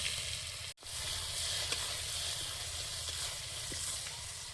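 Crushed garlic and ajwain sizzle steadily in hot oil, a close, continuous crackling hiss with a brief cut near the start and no talking.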